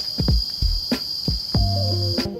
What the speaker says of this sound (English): we are here at the height of the cicada mating season